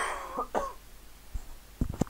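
A man coughs close to the microphone during gameplay commentary, his throat strained from imitating voices: a couple of harsh, raspy bursts early on, a short pause, then a cluster of quick, rougher coughs and throat-clearing at the end, with no talking.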